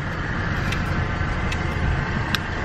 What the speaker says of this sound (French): vous entendez le bruit de ma voiture, c'est un tracteur le bordel